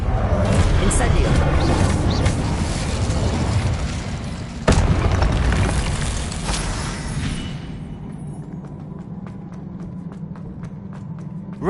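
Incendio fire spell cast in the Hogwarts Legacy video game, a loud whooshing fiery blast with a sharp burst near the middle, among other spell effects and footsteps, fading to a quieter crackling tail.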